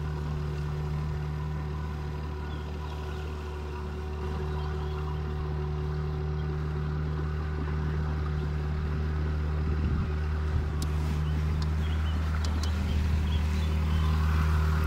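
A Toshiba outboard motor drones steadily as a boat moves along a flooded river, a constant close engine hum with faint knocks near the end.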